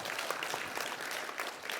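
An audience at an education-plan briefing applauds teachers, a steady, dense wash of many hands clapping that holds evenly for about two seconds with no voices over it.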